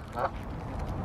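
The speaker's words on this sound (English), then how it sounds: "Look, the birds, they're all coming running." Ducks and geese being fed bread let out a short honk, then a low, steady outdoor murmur continues.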